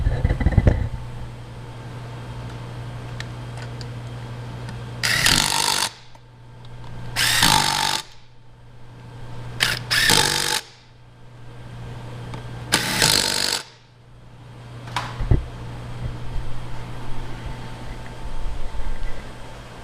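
An impact wrench tightens wheel nuts on a Polaris ATV in four loud, rattling bursts of about a second each, close up, with a steady low hum from a machine running between them.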